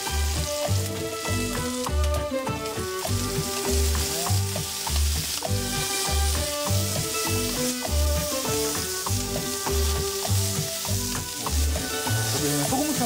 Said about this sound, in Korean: 언제까지 볶냐면은 얘는 갈색이 돌 때까지 그때까지 좀 볶을 거예요